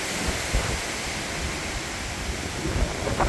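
Strong wind from Tropical Storm Debby in northern Vermont, a steady roaring rush with low buffeting gusts against the microphone, continuous and unbroken, no voices.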